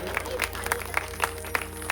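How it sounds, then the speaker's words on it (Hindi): Scattered applause from a village crowd at a Krishna–Sudama devotional gathering in Azamgarh, a few sharp claps standing out over a low steady hum, fairly quiet and distant. "जोरदार तालियां बजनी चाहिए।"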